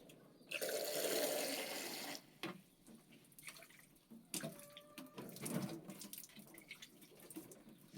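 Water rushes into stacked hydroponic fodder trays for about a second and a half, then thins to scattered trickles and drips that drain down to the lower trays, quiet and close.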